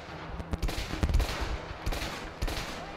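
Rapid bursts of gunfire with bullets punching through cover in the prison-break video game A Way Out, several loud sharp shots spaced across the moment amid dense action noise.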